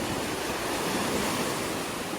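Heavy surf roars in a dense, continuous wash of noise from strong waves on a beach in Da Nang, Vietnam, with no voices.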